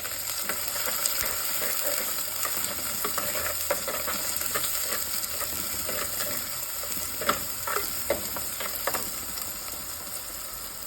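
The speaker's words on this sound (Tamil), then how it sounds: "வெங்காயம் நல்லா வதங்கட்டும்." Curry leaves, green chillies and shallots sautéing in hot oil for a Kerala-style fish curry, a steady bright sizzle with intermittent scraping stirs of a spatula against the pan, no voices.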